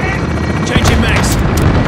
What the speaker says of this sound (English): Enemy helo inbound